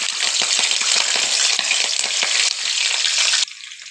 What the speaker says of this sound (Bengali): এই দেখো কপি ভাজছি